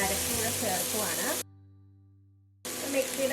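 Sizzling pan of green beans for payar thoran as ground coconut paste goes in: a close, hissing fry that cuts to silence for about a second, then resumes.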